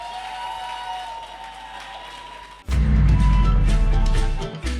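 An audience bursts into a loud round of applause at a film discussion event, the dense clapping swelling in midway and carrying on steadily through to the end.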